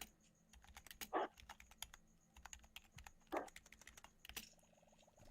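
Computer keyboard typing, a few quick bursts of sharp key clicks separated by pauses, close and fairly quiet, with no talking.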